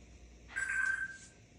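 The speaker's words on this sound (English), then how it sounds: "answer the phone" A telephone rings once indoors in a home, a single steady electronic tone lasting about half a second over quiet room noise, with no talking.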